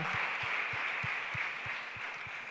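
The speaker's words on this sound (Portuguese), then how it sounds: "Vamos aplaudir essas pessoas que fizeram essa oração." A church congregation applauds those who have just prayed, producing a soft, steady wash of clapping heard from a distance, with a faint low rhythmic thump pulsing beneath it throughout.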